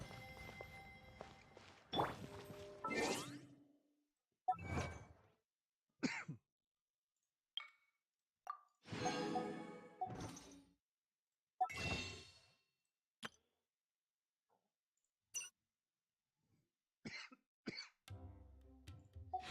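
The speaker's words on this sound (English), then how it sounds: "I don't even know why I'm coughing. My throat's just dry." Repeated coughs and throat clearing from a dry throat come in short, separate bursts, close and fairly soft, with quiet pauses between them.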